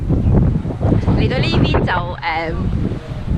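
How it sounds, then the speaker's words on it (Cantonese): Strong gusty wind buffets the microphone in open English countryside near Glastonbury Tor, a loud continuous low roar that surges and dips under someone speaking throughout. "因為我一路行一路好大風，驚會吹走我"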